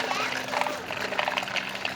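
Water runs from a tap into the tank of a toy tractor, a steady close splashing trickle lasting the whole moment.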